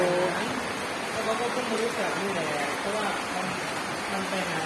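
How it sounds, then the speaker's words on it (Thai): Heavy rain pours down steadily, a constant dense hiss, with voices faintly talking underneath. "ฝนตกจ้าฝนตก"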